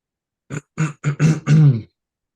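A voice imitates a quick little cough with a series of short, clipped throaty bursts, close and clear, then silence.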